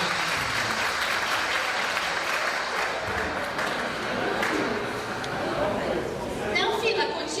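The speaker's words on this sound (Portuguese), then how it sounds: "Uma salva de palmas para essa fila maravilhosa" An audience claps in steady applause for a Brazilian comedy sketch about a bus queue, with crowd chatter mixed in throughout and a few louder claps near the end.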